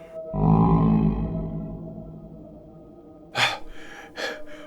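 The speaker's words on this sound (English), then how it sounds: "woken by a husky bellow in the early hours of the morning" A husky bellow sounds in the early morning hours in a horror story set in a lost WWII bunker. It is one deep, drawn-out, close groan that fades, followed by sharp, breathy gasps.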